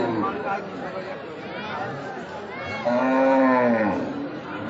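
A big cow at a Bengali cattle market gives one long, loud, close moo over steady crowd chatter and people talking nearby.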